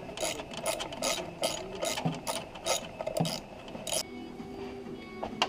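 Rapid clicking of a ratchet wrench turning a bolt on a Subaru engine during timing belt and water pump work, heard in several quick bursts of metallic ticks, close and fairly loud, with no talking.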